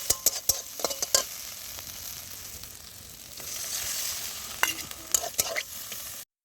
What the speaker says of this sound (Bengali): লবণ হলুদ দিয়ে ভালোভাবে ভেজে নিব